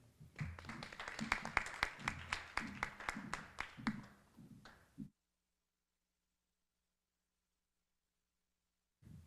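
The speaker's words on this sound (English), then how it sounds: "Students, give him a round of applause as he approaches the podium." Students at a high school celebration of excellence clap in a loose, uneven patter for about five seconds, with individual claps standing out before it cuts off into silence.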